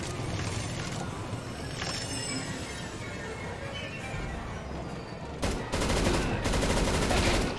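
Desert Eagle pistol gunfire in Counter-Strike: Global Offensive co-op mission mode, heard over a steady wash of in-game noise and building into louder, rapid shot bursts near the end.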